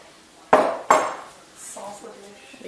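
Cinnamon being mixed into six tablespoons of melted butter in a bowl, with two sharp utensil clinks against the dish followed by quieter stirring and soft scraping, close and brief.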